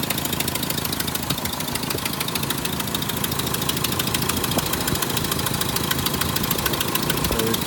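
A late-1980s Toyota Sunrader 4x4 engine idles steadily and loudly up close, with a harsh, clattering, diesel-like knock running continuously throughout.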